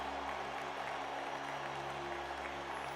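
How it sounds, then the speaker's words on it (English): Applause in the video game Bad Apple Wars, a dense, even wash of clapping from a crowd that holds steady for the whole stretch, moderately loud with no voices standing out. "Hey, I can hear applause."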